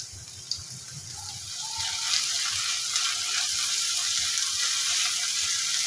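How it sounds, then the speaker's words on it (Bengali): Onions frying in a wok give a continuous bright hissing sizzle that swells after the first couple of seconds and holds steady, with a faint low rumble underneath. "তো কড়াইয়ের মধ্যে আমি পেঁয়াজগুলো দিয়ে দিলাম"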